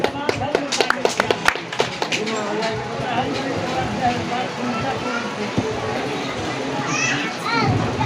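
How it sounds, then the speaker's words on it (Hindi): An outdoor gathering gives a brief burst of sharp hand claps, then children's voices and chatter carry on under a busy crowd murmur. "इनका के लिए एक बार ताली बजा देना"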